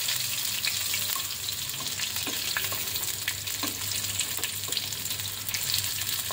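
Boiled chital fish pieces fry lightly in mustard oil with cumin and bay leaf, giving a steady soft sizzle with scattered pops and crackles, close and unbroken, with no talking.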